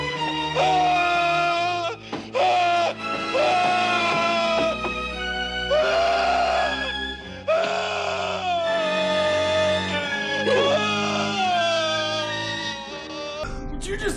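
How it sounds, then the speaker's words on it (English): A man in Sleepaway Camp screams after a boiling pot is knocked over onto him, with long wailing cries that rise and break repeatedly, loud and close, over a dark musical score. "the pot gets knocked over on him and he screams for what feels like an eternity"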